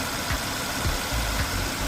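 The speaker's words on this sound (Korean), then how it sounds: "엔진 소리 진짜 조용하고요" A used Hyundai Genesis DH sedan's engine idles in a low, steady, even hum with faint rhythmic pulses, close and moderately quiet, with no voices.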